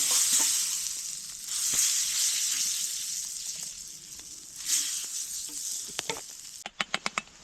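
Minced beef, onion and peas fry over a campfire outdoors, a steady close sizzle and crackle with a few scrapes of the utensil and a quick run of clinking taps at the end.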